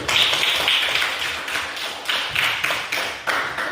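A class of students clapping in a classroom, a close, fairly loud burst of many hands with rhythmic pulses that fades slightly toward the end, no talking over it.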